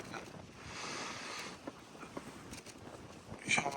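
Wind blowing outdoors at a fishing spot, a soft steady rushing over the microphone with faint scattered knocks and handling sounds.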